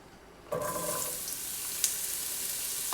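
Zucchini and mushrooms hitting hot oil in a pan over a medium flame burst into a steady sizzle that holds through to the end, with a brief clink of a utensil partway through.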